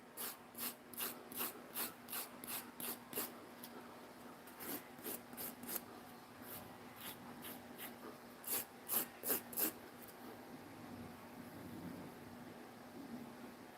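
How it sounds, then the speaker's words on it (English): A knife and a pair of scissors being sharpened to remove the burr, a series of quick rhythmic scraping strokes in bursts, close and crisp over a quiet background. "just to make sure that we're getting that burr off"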